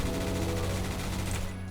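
Tar-21 assault rifle firing in the Roblox game Phantom Forces, a steady rapid stream of shots that holds loud and dense throughout before easing off at the very end.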